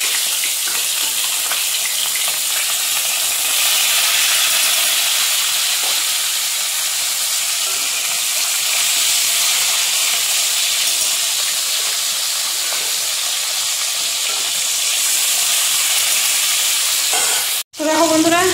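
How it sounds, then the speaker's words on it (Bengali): Koi fish rubbed with salt and turmeric fry in hot oil, making a loud, steady, close hiss and sizzle that holds for the whole stretch before a sudden brief break near the end. "তো মাছগুলো ভেজে নিই।"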